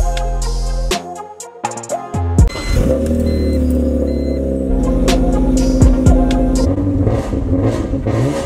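Stick-shift car engine running and revving, with a sharp start-up burst followed by steady loud idle and rising revs, close by with no talking.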